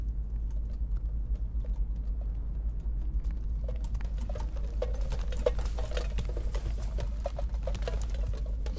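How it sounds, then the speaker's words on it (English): Metal pans strapped to a player character rattle in the battle royale game Cuisine Royale, a busy clattering patter that builds midway and keeps going over a low steady rumble. "You can literally hear pans rattling."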